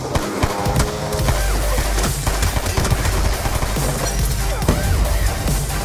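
Gunfire in the video game Black Ops 2 on Wii U, loud bursts of automatic fire with heavy thuds and impacts, dense and continuous over a busy battle mix.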